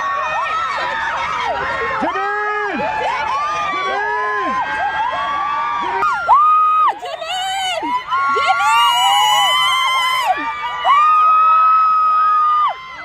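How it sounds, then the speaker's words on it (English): A large, excited crowd at a Dior fashion event chants and shrieks a celebrity's name, with loud overlapping high-pitched cheers and rhythmic calls sustained throughout. "he once again gathered a big crowd that were chanting his name"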